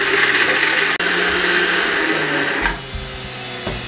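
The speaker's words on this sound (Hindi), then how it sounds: "थोड़ी सी बर्फ डाल दें और इसको अच्छे तरीके से 1 मिनट के लिए मजीद ग्राइंड कर लें" A blender-type juicer grinds a drink with ice, a loud steady motor whine running alone until it cuts down near the end, leaving a few clunks of ice settling.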